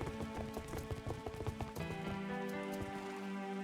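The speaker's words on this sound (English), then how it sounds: "Rain." Rain falling in the game Minecraft, a steady patter of drops across the whole stretch, joined by rhythmic hoof clops from a horse being ridden, fairly close and loud with no talking.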